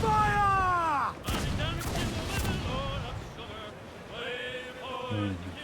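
Ship cannons fire in Assassin's Creed IV: Black Flag, a burst of several loud booms in quick succession around a sea battle, with game voices shouting and ship sounds running beneath.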